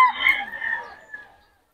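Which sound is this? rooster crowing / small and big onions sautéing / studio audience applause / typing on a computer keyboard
rooster crowing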